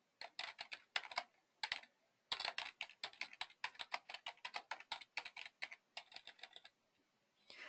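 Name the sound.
typing on computer keyboard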